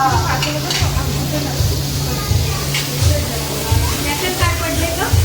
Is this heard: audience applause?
no